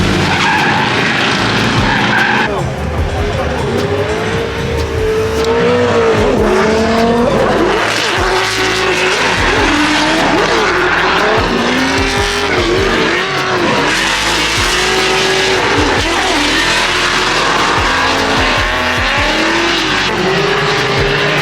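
K24-swapped Chevrolet S10 pickup racing on a track at a Gridlife event, its engine revving hard and rising and falling with gear changes while the tyres squeal and skid continuously, loud and close.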